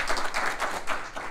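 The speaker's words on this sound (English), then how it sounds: "so please round of applause for George" An audience at a meetup claps for a new organizer, a lively ragged burst of hand claps rising and falling throughout, fairly close and loud with no speech.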